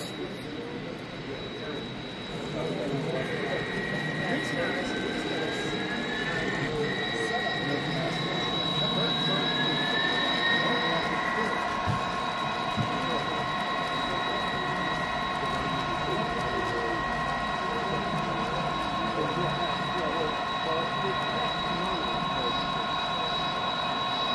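A model train engine circles its track pulling a string of cars at a scale model train show, a steady low rumble with a high whine and hall chatter around it throughout.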